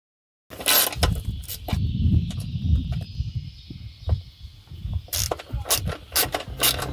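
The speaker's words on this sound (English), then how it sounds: "You're going to need a 17mm combi spanner, 10mm socket, and a ratchet." Ratchet wrench clicking as it loosens the seat bolts on a Vespa GTS scooter, several bursts of close, sharp ratcheting with metallic ticks and pauses between strokes, no voices.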